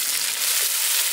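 Chopped big onions hitting hot oil with mustard seeds already popped, giving a steady, bright sizzle and crackle, close and alone for a brief moment.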